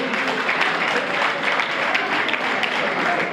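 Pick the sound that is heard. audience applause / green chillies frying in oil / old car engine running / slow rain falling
audience applause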